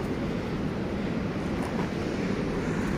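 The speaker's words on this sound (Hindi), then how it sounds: "पानी आ रहा है, नीलकंठ पर्वत से ही आ रहा है ये पानी।" Mountain stream water flowing down from Nilkanth peak at Badrinath, a steady broad rushing roar that fills the whole stretch without pause, with no voices over it.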